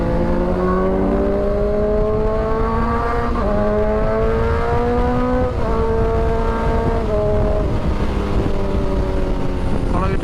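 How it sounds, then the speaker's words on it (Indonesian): Car accelerating on a night ride through city streets, engine revving continuously with rising and falling pitch as it shifts gears, loud and close from inside the vehicle. "Coba aku berusaha ngebut aja deh."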